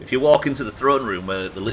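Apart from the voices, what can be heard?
No everyday noises stand out.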